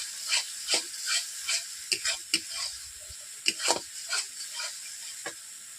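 Thick masala spice paste for a red katla fish curry with cashew and poppy seed paste frying in oil, with steady sizzling, sharp spattering pops and repeated spoon stirring strokes, close and fairly loud with no talk.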